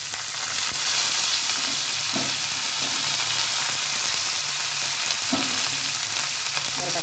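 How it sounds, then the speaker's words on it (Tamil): Urad dal and pirandai frying in oil in a kadai, a loud continuous crackling sizzle throughout, with a couple of brief stirring scrapes mixed in. "உளுத்தம்பருப்பு நல்லா பொரியட்டும்"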